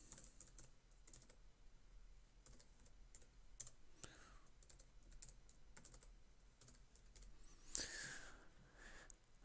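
Quiet, close typing of a login name on a computer keyboard, with quick bursts of key clicks in an uneven rhythm, a few louder taps and faint breathing, without speech.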